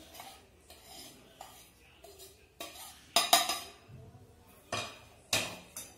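A spoon mixes spices into litti filling in a bowl, giving irregular scraping strokes and a few louder clinks of metal against the dish, close and otherwise quiet.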